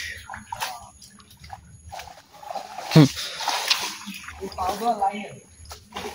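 Feet splashing through muddy water on a hard-going village path in rural Bangladesh, with one sharp close splash near the middle and softer sloshing after it, under people talking.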